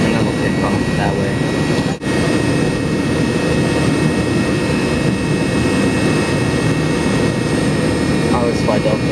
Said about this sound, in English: So what we're going to do, we're going to taxi that way, we're going to turn left, and then we'll take off that way.